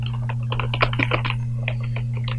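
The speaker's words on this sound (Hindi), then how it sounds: "या मैं टाइप कर देता हूं इधर के" Fast clicking of computer keyboard keys while entering text in a word processor, a quick irregular patter of close keystrokes over a steady electrical hum.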